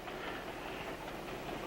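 A passenger train rolling along the rails with a steady low rumble and faint rhythmic clatter. The sound is continuous and moderately quiet, like a ride heard from inside a carriage, with no voices over it.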